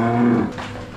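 A dairy cow being herded toward the milking parlour on a farm gives one short, close moo that fades within a second.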